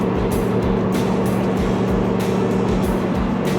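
A 1934 Ford Deluxe 3-window coupe street rod runs with a loud, deep exhaust note, a steady rumbling idle with pulsing low-end throb throughout.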